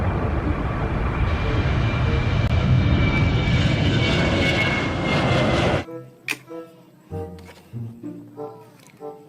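Toy airplane producing a loud steady droning engine roar that runs for several seconds and then cuts off abruptly, followed by short tonal electronic beeps and tones.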